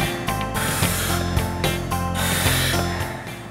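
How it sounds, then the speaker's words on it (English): Firefighter's breathing apparatus with air rushing from the tank through the tube to the mouthpiece, a steady close hiss with rhythmic rasping pulses as the wearer breathes in and out. "So what that is air coming from the tank, going through the tube into my mouth."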